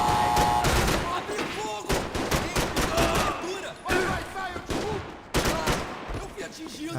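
Gunfire in the video game Max Payne 3: repeated bursts of shots and fusillades crack through the whole stretch, loud and close, with several short gaps between volleys.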